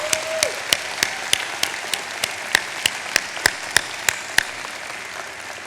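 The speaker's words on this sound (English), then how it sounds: "let's warmly applaud your family and friends who are here," Applause at a law school commencement ceremony, heard as a thin stream of scattered claps, some sharp individual ones standing out in a steady rhythm, at moderate distance with no speech.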